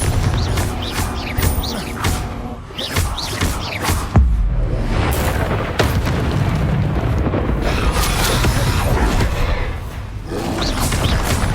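A Confringo blasting spell in Hogwarts Legacy on PS5 sets off loud, booming explosions mixed with heavy thuds and a dense stream of game combat effects.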